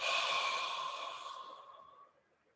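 A long, deep exhale during a guided relaxation meditation, a breathy rush of air that starts strong and slowly fades away over a couple of seconds, close and alone.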